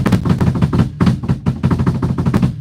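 Drums played rushed and sloppy with flams: fast, loud, dense hits rattling in uneven bursts, close up and continuous, with doubled strikes smearing the rhythm.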